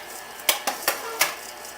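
A utensil mixes butter into a cheesecake crust in a pan, giving four sharp, separate clinks against the pan over a quiet background.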